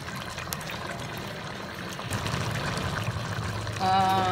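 Liquid gravy poured into a pan while cooking aloo ki katli, a steady close trickling stream that grows louder near the end.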